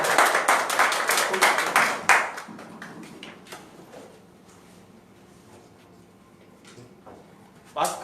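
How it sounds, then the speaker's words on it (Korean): A lecture audience at a Catholic cultural center claps to welcome a priest speaker: dense, close clapping for about two seconds, thinning into a few scattered claps, then a single late clap. "큰 박수로 맞이해 주시기 바랍니다."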